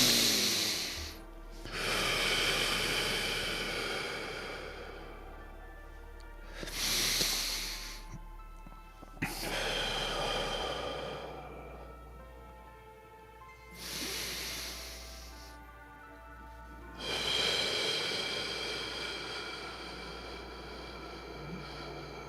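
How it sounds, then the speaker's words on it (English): Three slow deep breaths taken in through the nose and released through the mouth during a sunrise meditation session, each a long airy hiss, close and clear over a low steady hum, with no talking. "Now let's take 3 nice deep breaths to facilitate some energy coming into our body."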